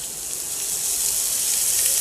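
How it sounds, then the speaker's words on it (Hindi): Water poured into a pan of onions while cooking tawa keema (minced mutton or beef), giving a steady close hiss and gush that holds evenly with no talk. "और प्याज डाल के तो हम इसमें थोड़ा सा पानी ऐड कर देंगे"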